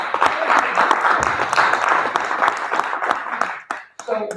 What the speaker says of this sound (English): So give a round of applause for Mr.